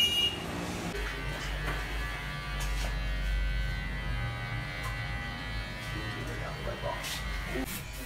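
Electric hair clippers buzz steadily and close as they shave off all of a man's hair at a barber salon in Limbe, Cameroon, with a continuous hum that shifts slightly in pitch as someone talks over it.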